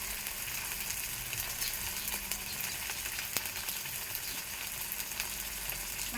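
Spices sizzle steadily in hot oil in a pan, with cumin paste and ground coriander frying in a continuous dense crackle. Faint occasional clicks of stirring sit beneath, with no voices.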